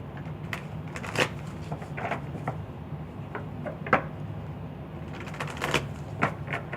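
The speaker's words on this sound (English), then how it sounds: "I was told to shuffle these real quick before I do anything." Cards are shuffled in quick crisp riffles and soft slaps, several short bursts at irregular intervals, close and fairly quiet, with no speech.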